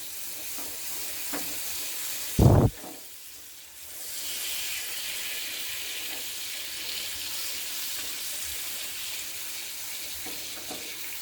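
Butter being mixed into hot caramelized sugar, giving a steady, moderately loud hiss and sizzle with stirring scrapes throughout, after a brief sharp burst near the start.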